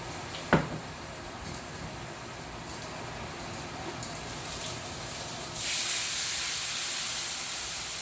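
Wine poured into a hot pan of chicken thighs in puttanesca sizzles with a sharp pop, then a steady hiss of steam that swells louder toward the end.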